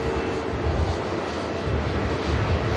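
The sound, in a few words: EasyJet plane heading out at Manchester Airport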